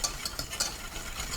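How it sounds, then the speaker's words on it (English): A whisk stirring cayenne pepper into a pan of béchamel sauce, giving a soft, close, steady scraping swish with faint sizzling texture and no talk. "give that a nice little whisk in there, just like so."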